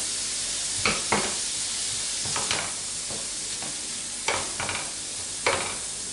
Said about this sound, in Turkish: İçine bir tane doğranmış soğanımızı ilave ediyorum. Ve kavurma işlemimize devam ediyoruz.